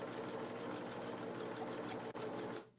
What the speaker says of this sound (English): It's a plain old machine. Does everything I need it to do. It sews.